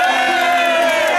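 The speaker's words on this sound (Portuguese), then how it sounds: "palmas pro churrasqueiro" A birthday party crowd cheers and whoops loudly and steadily throughout, a dense wall of voices with no pauses.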